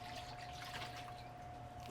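Water poured into cake mix as a steady, continuous liquid stream with a constant tone running underneath, even and unbroken with no speech.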